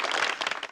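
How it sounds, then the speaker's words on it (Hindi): A live audience claps together in a dense, steady wash of applause that holds for under a second, fairly quiet and without any talking over it. "जोरदार एक बार फिर ताली बजा दो।"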